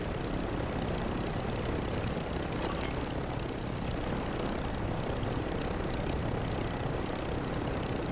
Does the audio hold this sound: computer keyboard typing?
no